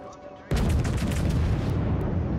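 Heavy naval guns roar in the World of Warships video game, a sudden loud blast bursting in after a half-second of quieter ambience and rumbling on with crackling detail.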